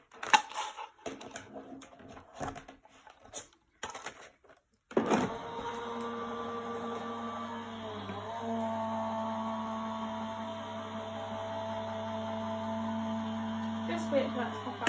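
A die-cutting machine runs a pierce die through card with a steady mechanical hum and whirr, starting abruptly after some quiet shuffling and brief talk, then continuing evenly at close range.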